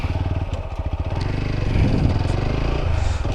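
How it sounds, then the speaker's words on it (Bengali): Motorcycle engine held at steady throttle while a rider clutches and shifts up from first to second gear, a loud close rumble with choppy pulsing that changes pitch through the shift, no talk over it. "থ্রটলটাকে যদি আমি কম না করি আর গিয়ার শিফটিং করি তাহলে কি হচ্ছে"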